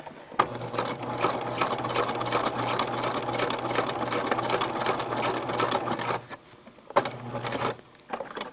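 A sewing machine stitches an X across an elastic casing, running steadily and loudly for about six seconds, pausing briefly with the needle down, then starting again for a short burst.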